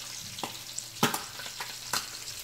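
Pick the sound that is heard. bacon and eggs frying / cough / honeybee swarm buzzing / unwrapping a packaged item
bacon and eggs frying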